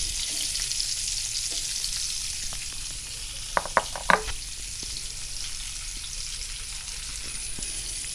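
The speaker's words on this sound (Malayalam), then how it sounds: "ഇനി നമുക്ക് ഈ ഒരു ഓയിലിൽ തന്നെ ഉള്ളി വാട്ടി കൊടുക്കാം" Two large chopped onions fry in oil for paneer butter masala, a steady close hiss with a few quick metallic taps of a spoon on the pan midway and no voices.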